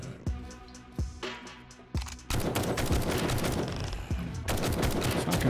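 Shotgun fire in 7 Days To Die: three sharp, separate blasts about a second apart, then a dense, loud run of rapid shots that briefly eases before resuming.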